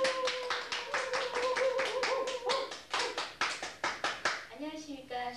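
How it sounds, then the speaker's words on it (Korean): Rhythmic group clapping in unison from an audience, a steady run of sharp, evenly spaced claps with a voice or tones sounding alongside, breaking off into other sounds at the end. "박수, 박수!"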